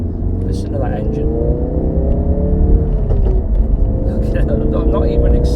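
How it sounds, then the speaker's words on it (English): A Ford Focus RS engine hums and rumbles steadily throughout, in sport mode, with rising and falling tones as it revs, while someone talks over it. "Listen to that engine."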